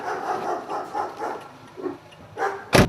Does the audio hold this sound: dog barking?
yes